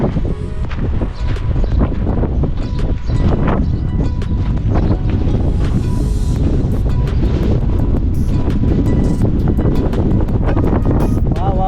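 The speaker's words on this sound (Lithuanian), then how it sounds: "Vau, vėjas tai kosminis." Strong wind on the Mykonos seaside blasts across the microphone in a loud, continuous roar, with surf and waves rumbling underneath throughout.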